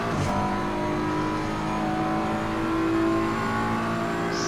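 GT3 race cars in a racing video game at Bathurst whine at high revs, a sustained loud engine tone with shifting pitch as cars run close together in a battle.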